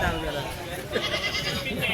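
Goat kids at a Sunday goat and sheep market, bleating amid loud nearby talk, with a couple of short bleats rising through the chatter of a busy crowd.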